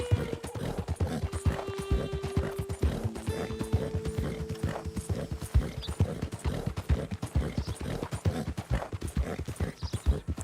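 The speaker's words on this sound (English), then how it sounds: "Do all horses make noises like this when exerting themselves?" Rapid hoofbeats of a galloping horse in Red Dead Redemption 2, a dense rhythmic clatter throughout with strained whinnying snorts and neighs over the first half, close and steady, no talking.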